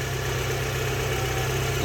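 Honda Prelude engine idling with a steady low-pitched hum and a constant broadband hiss, even and close, with no talk over it.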